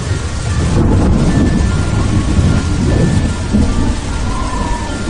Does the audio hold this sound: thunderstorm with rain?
yes